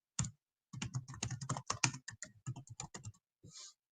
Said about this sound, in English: if I can type here